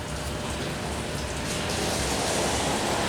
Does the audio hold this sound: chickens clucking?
no